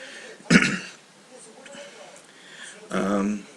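Two short, throaty coughs about two and a half seconds apart, close to the mic, with quiet room noise between them.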